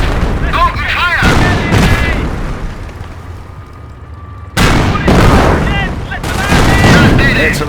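Loud gunfire and artillery booms in the WWII strategy game Company of Heroes, dense rapid shots and heavy blasts filling the scene, with a brief lull before another burst, under shouted in-game commands.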